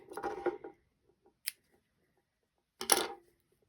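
Scissors snip through crochet yarn on a granny square afghan, three short crisp cuts spaced across a quiet pause, close and clear with no talk.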